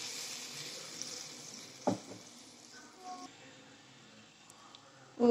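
Ground masala paste for paneer butter masala poured into a hot pan with fennel and cinnamon, a soft steady sizzle with a few clanks of utensil on the pan, fairly quiet throughout.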